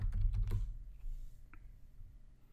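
Keys tapped on a computer keyboard while working in software setup on Windows, a short quick cluster of close clicks followed by a single lighter tap, with no talking.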